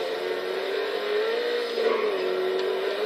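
Steady engine drone of an Ocelot Stromberg car in the video game GTA V, held at a constant pitch with slight rises, loud and continuous throughout with no talk.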